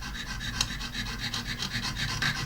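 A jeweler's saw frame cuts metal at a goldsmith's bench in quick, steady back-and-forth strokes, a close, quiet rasping rhythm with no talking.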